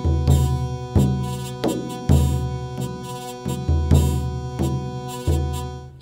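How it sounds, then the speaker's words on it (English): Medieval-style ensemble of frame drums and a droning hurdy-gurdy, with loud, regular drum hits every second or so over a sustained, reedy drone; instrumental, no voices. "And together with the hurdy-gurdy."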